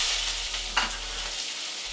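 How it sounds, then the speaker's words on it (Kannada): Onion going into hot oil in a pan for Coorg-style chicken fry, giving a steady loud broadband sizzle with a brief stir or clatter partway through, no talking. "ಅದಕ್ಕೆ ಸ್ವಲ್ಪ ಎಣ್ಣೆ, ಒಂದು ಅನನಾಸ್ ಹೂವು ಹಾಕ್ಕೊಂಡು ಎಣ್ಣೆ ಕಾದ್ಮೇಲೆ ಸ್ವಲ್ಪ, ಆಮೇಲೆ ಈರುಳ್ಳಿ ಒಂದು ಹಾಕ್ಕೊತಾ ಇದ್ದೀವಿ"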